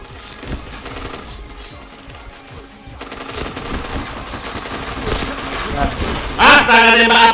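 Gunfire in a shooter video game, with rapid bursts of automatic shots and scattered single shots building toward a loud blast near the end, dense and close.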